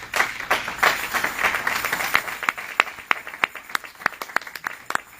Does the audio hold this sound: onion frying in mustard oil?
no